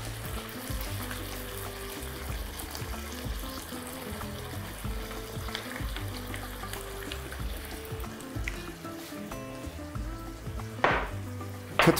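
Warm chicken liver salad sizzling in a pan as Worcestershire sauce is added, a steady close frying crackle running throughout with a brief louder burst near the end.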